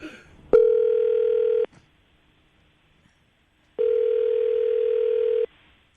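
Two long ringback tones on an outgoing phone call to a radio morning show contact, each a steady buzzing tone lasting over a second, separated by a pause of about two seconds, clear and loud with no talk.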